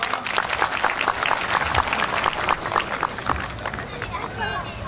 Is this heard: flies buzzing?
no